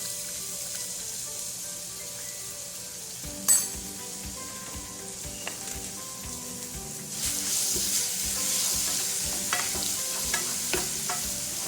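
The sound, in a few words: garlic frying in a pan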